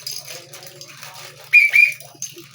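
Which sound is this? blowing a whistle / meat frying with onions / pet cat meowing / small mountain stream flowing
blowing a whistle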